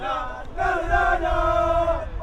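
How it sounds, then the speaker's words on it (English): A crowd cheers and shouts in a swelling burst during overtime at a women's college soccer match between UNCP and Lees-McRae, with loud, fairly close sustained voices rising together. "Crowd alive again in overtime."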